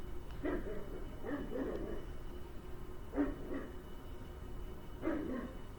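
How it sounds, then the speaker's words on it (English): A dog barks in a few short bursts at a distance, faint and spaced apart, with quiet background noise between. "That's my neighbor's dog."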